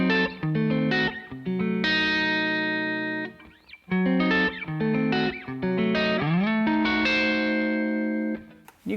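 Electric guitar with effects playing a sequence of diminished seventh chords, each sustained and ringing before shifting by half steps, with brief gaps between phrases and a slightly eerie, cartoonish character.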